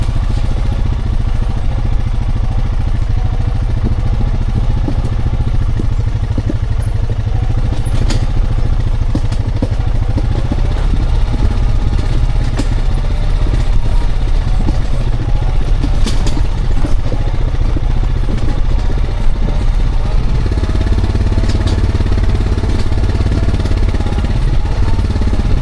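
ATV with engine braking on a downhill stretch while pulling a Vevor dump trailer, a steady loud low engine drone with rattling clatter running continuously throughout, the pitch dropping slightly near the end.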